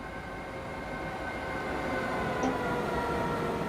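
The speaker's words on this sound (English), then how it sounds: "Sorry, I'm just watching the trains. This is cool." Trains rolling past in the Train Simulator 2015 Munich–Augsburg route with a BR426 unit, a steady low rumble and hum of rail noise that swells gently and holds throughout, with no voices.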